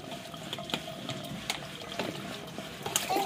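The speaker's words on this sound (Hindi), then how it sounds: "पानी मत फेंको।" A child throws and splashes water nearby, giving a continuous wet sloshing with scattered splash bursts, moderately close, and no clear talking over it.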